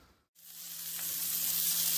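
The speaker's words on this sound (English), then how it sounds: "we're going to add the pork tenderloin to the skillet" Pork tenderloin browning in a hot skillet gives a steady, loud sizzle that starts abruptly after a brief silence and holds constant, with a faint low hum underneath.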